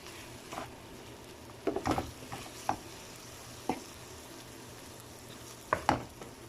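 Chicken strips sizzle softly in a pan, a faint steady frying hiss broken by a few brief clinks and stirring scrapes, with no voices.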